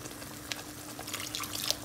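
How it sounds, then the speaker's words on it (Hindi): Water poured from a tap or jug into a pan of chaat gravy, a soft continuous splashing and trickling with a few brighter drips, heard close and alone. "मैं थोड़ा और पानी डालूँगी।"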